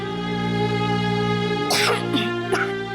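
A child gives a few short coughs near the end, heard over a steady humming tone in the background.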